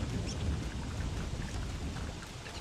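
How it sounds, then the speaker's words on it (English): Rain in the survival game Don't Starve Together, a dense, steady downpour with low rumbling underneath, sounding close and fairly loud with no voices. "It won't stop raining."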